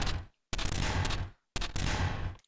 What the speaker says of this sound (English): every time the cannon fires, it just plays the sound